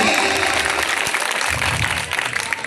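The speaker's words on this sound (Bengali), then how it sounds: "সবাই জোরে তালি" A crowd at a village cultural and Baul music program in Jaipurpara, Bogura, claps loudly and continuously, with a few murmured voices mixed into the dense, rolling applause.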